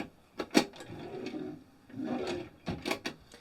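A drawer in a 2025 Mercedes-Benz all-wheel-drive Regal GT campervan slides and clunks shut, with a few sharp wooden knocks and a short rolling slide between them, close and fairly quiet.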